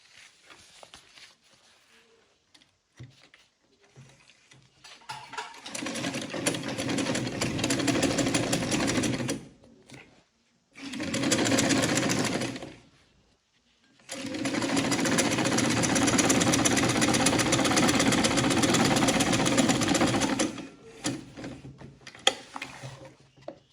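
A sewing machine stitches Ankara fabric for a purse in three bursts of steady mechanical whirring, a long run, a short pause and a short run, then a second long run, with quiet handling between them.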